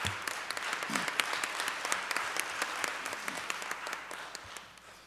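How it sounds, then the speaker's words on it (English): A room full of people at a school district board meeting claps for student board ambassadors, giving sustained, moderately quiet applause with dense, crackling hand claps throughout. "giving them a round of applause"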